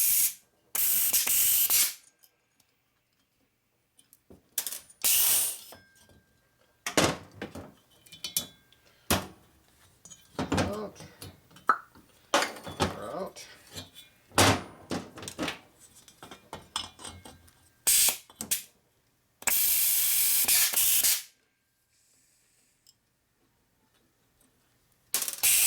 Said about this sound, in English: Air operated spring compressor.